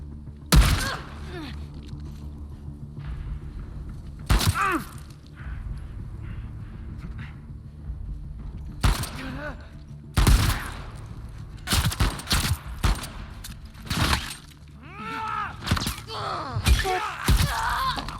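Gunfire in the video game The Last of Us Part II: sharp, loud shots fired singly and in short bursts at irregular intervals, with quieter gaps between them.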